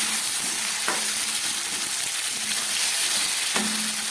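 Ground garam masala paste of cardamom, clove and cinnamon frying in a pan for a mung dal with vegetables and fish head, giving a steady close sizzle with a few soft stirring scrapes and no talking.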